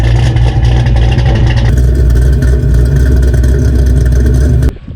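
Car exhaust roaring through Flowmaster Delta mufflers during a street drive, a loud, steady engine drone with a rise in pitch partway through before cutting off abruptly near the end.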